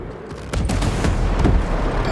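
A rocket launcher fires in a first-person shooter game, a loud booming blast with a sustained roaring rumble that swells and lingers, with no voices over it.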